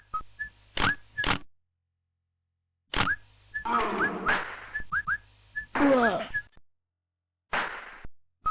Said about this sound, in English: the man whistling for his dog